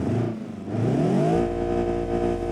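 A 1.6-litre petrol engine in a Polonez car idles and revs up, its pitch climbing then settling into a steady, loud hum up close.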